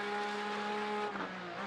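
Engine note of a Porsche race car in a racing video game around the Montreal circuit, a steady high-pitched whine that wavers briefly as the car hops the curbs, loud and without voices.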